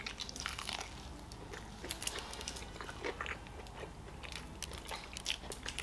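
Eating KFC chicken wings up close, with repeated crunchy bites and wet chewing in an irregular rhythm, loud and near, with some crinkling of packaging and no talk.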